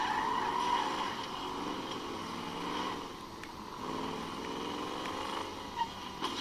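A car drives through the city in GTA V Enhanced Edition, a steady engine drone with road and tire noise that stays at an even level throughout. Faint and continuous, with a couple of small bumps near the end.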